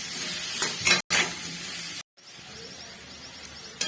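Potatoes frying with chili powder in a pan on a low flame for bora posto: a close, steady hiss and sizzle with stirring scrapes, broken by two brief silent gaps.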